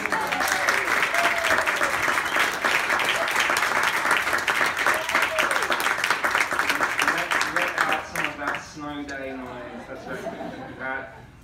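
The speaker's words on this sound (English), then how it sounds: "With an applause." Sustained audience applause at a Powell's bookstore author reading, steady and full for about eight seconds before tapering off as a speaker begins talking.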